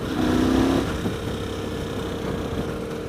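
A 2016 Motus MST motorcycle engine revs hard, then drops as it shifts up into fourth gear, settling into a steady mid-pitched drone under wind noise.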